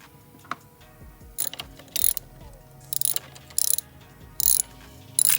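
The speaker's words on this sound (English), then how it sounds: "we're removing the 2 T30s that are holding on this high pressure fuel pump as we speak" A hand ratchet backs out the two T30 bolts holding the high pressure fuel pump on a Mk6 GTI, giving repeated bursts of close, crisp pawl clicking separated by short pauses.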